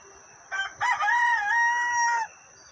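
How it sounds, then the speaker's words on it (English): A single rooster crows once, clear and fairly close, with a drawn-out final note against a quiet background. "The rooster sings at daybreak."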